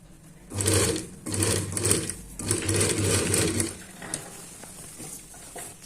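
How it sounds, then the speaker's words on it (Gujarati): A sewing machine stitches a shirt collar in three or four close bursts of rapid mechanical whirring, with short pauses between them. The runs fade out near the end, and no speech is heard. "હવે જે આ ભાગ છે તે આપણે આવી રીતે આ સાઈડથી સિલાઈમાં લઈ લેશું"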